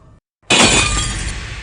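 Glass shatters in a sudden loud crash after a brief silence, followed by a long bright spray of tinkling shards that slowly fades.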